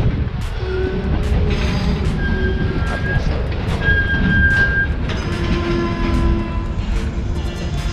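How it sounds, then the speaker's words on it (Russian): A passenger train slowly starts rolling after a stop, with steady low rumble, repeated metallic clicks and knocks, and thin squeals from the wheels, heard close and continuous throughout. "А вроде он потихоньку едет."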